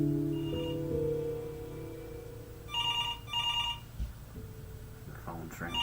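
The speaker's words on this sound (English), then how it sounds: "The phone's ringing." Telephone ringing inside the video game Before Your Eyes, two short bursts of bright electronic ringing heard faintly under soft background music and ambience.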